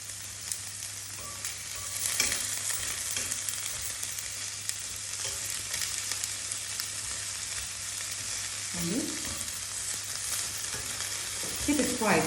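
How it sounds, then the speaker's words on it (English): Shell-on langoustines fry over high heat in a pan, a loud continuous sizzle with occasional scrapes and clatters as they are stirred and moved around, close and unbroken by talk. "So we are frying,"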